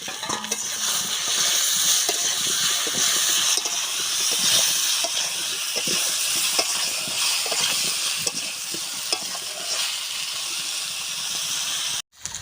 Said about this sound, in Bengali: এবার দিয়ে দেবো এই কলার ভেতরে আলু